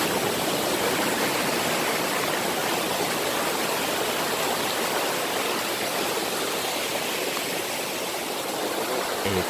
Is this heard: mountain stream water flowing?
yes